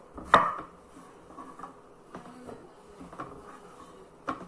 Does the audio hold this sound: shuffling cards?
no